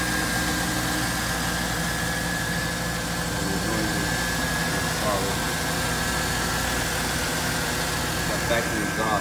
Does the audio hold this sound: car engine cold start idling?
yes